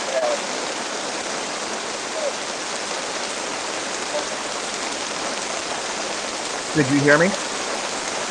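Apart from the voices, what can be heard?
heavy rain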